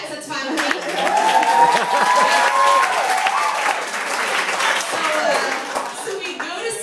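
Audience applause at a stand-up comedy show in New York, a sustained wash of clapping from a crowd that swells and gradually tapers, with voices and cheering mixed into it.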